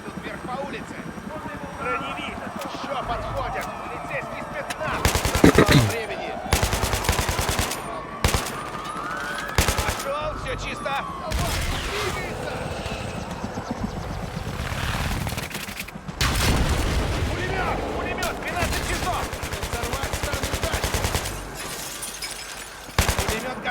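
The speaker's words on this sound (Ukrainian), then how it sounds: "бачите, що стріляють і не можете зрозуміти звідки" Bursts of rapid machine gun fire crackle repeatedly from the video game Battlefield 3, loud and close, mixed with game effects and a voice talking over it.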